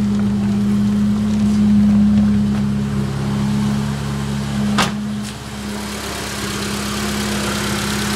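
A 1995 Mitsubishi Mirage engine idles steadily at close range, a smooth, even hum with no other sounds and no talking.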